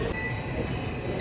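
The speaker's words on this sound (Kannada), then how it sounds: "ಈ ರೀತಿ ಎರಡು ಸೈಡನ್ನು ಟ್ರೈನ್ ಆಲ್ರೆಡಿ ಕಾಯ್ತಾ ಇದೆ" A subway train waits at a station platform during an early-morning commute, a steady close rumble with faint high tonal whine and no talk.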